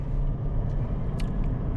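A 2010 Toyota Land Cruiser GXL 200 with a twin-turbo V8 diesel is under way, heard from inside as a loud, steady low rumble of engine and road noise, with no talking.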